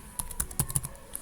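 A computer keyboard clicks out an IP address during Cisco RIP routing configuration, a quick close run of about eight crisp keystrokes in uneven rhythm, loud and alone.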